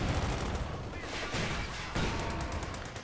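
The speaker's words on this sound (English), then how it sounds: "Some bullets just fly through the air." Gunfire in a Company of Heroes 2 match, with paratroopers and an armoured battle: dense, continuous small-arms crackle and bursts fill the short stretch, with a couple of sharper louder volleys standing out from the steady din.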